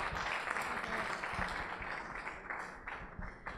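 Audience at a formal talk by a senior Pakistani general applauding, a soft, somewhat distant patter of many hands with occasional sharper claps, holding steady and fading slightly.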